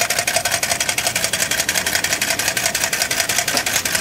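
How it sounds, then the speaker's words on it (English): A small Stirling engine runs on the difference between cold water and a heat source, giving a loud, rapid, even mechanical clatter with a steady rhythmic pulse, close up and with no voices. "our engine flows by itself because of the difference in temperatures between the cold water and the heat source"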